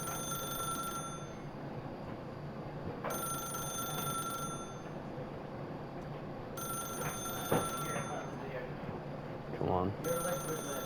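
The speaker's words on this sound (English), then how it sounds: "is it gonna make me wait like forever to just wait for the phone to hang up?" A telephone in the video game The Stanley Parable rings in repeated bursts separated by pauses, steady and clear, with a person talking faintly underneath.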